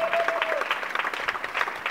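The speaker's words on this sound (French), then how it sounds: "est-ce qu'on peut l'applaudir très fort?" A crowd applauds warmly at the funeral ceremony of the actor Koko Dioko, with dense, steady clapping that lasts the whole moment and a faint voice mixed in.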